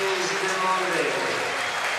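Football supporters in a stadium applaud a substituted player during an Arsenal versus AC Milan legends match, a broad wash of steady clapping beneath a commentator's voice.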